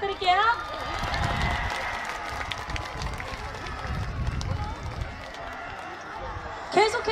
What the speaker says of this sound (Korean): 트와이스 여러분들께 한 번 더 박수 부탁드릴게요